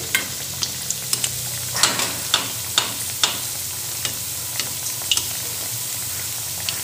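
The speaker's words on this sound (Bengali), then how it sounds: "ব্রাউন করে ভাজতে হবে" Pakon pitha frying in hot oil, browning: a constant bubbling sizzle punctuated by a dozen sharp taps and clicks at irregular intervals, close up and with no voices.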